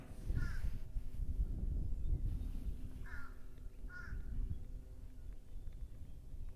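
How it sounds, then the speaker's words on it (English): A crow caws several times, short harsh calls spaced out near the start and again around the middle, heard outdoors on eastern Long Island in early spring over steady background rumble and wind. "What's that crow squawking about?"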